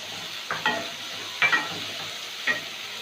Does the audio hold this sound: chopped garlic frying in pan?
yes